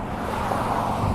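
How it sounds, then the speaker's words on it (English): Steady weekend road traffic on the Oregon coast, a continuous dense rumble of passing cars close by with no pauses. "as you can hear, the traffic is pretty robust."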